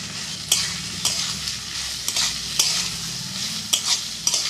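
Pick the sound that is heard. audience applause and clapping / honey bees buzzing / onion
onion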